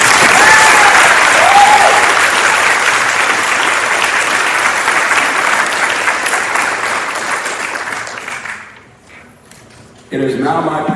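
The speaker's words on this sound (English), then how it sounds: "Let's pause for a moment to give a round of applause" A crowd applauds graduated Bachelor of Science nursing students at a university nursing pinning ceremony: loud, dense, steady clapping for about eight seconds that thins out and stops, followed by a voice beginning to speak.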